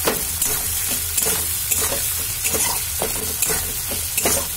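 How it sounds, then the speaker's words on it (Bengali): Onion frying in oil with bay leaf, cumin, cloves and cardamom for mutton curry, a steady close sizzle broken by repeated spatula scrapes and stirring strokes in a rough rhythm, no voices. "এই পেঁয়াজটাকে আগে একটু ভেজে নিচ্ছি"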